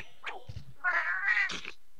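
Cartoonish cat meows from the cooking scene in the video game Monster Hunter Freedom Unite, a few short high mewing calls and a longer drawn-out meow in quick succession, clear and close.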